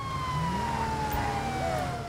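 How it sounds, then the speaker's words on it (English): A police siren in the video game GTA 5 wails continuously during a pursuit, its tone sweeping down and rising again over a low rumbling engine, loud and close. "lights and sirens, let's pull this thing over."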